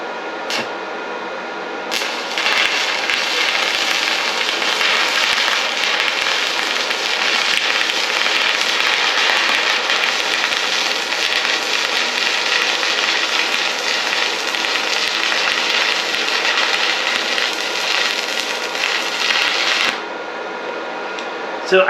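A 110V flux core MIG welder runs one continuous bead, a close, steady crackling hiss like frying bacon that starts abruptly, holds for about eighteen seconds, then cuts off.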